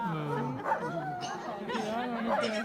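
Alaskan sled dogs at Denali National Park bark, yip and whine excitedly before a run, a chorus of overlapping voices close by, with people talking among them.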